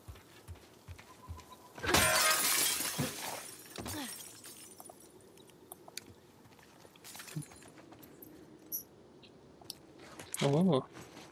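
A glass window is smashed in the video game The Last of Us Part II: one loud, sharp shattering burst, then scattered crunches and tinkling debris, with some talk nearby.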